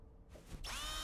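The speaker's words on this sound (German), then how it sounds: "Es war ein Bohrer." Electric power drill in the horror adventure game Gibbous, a short whirring burst that swells and then runs at a steady, loud, high-pitched spin.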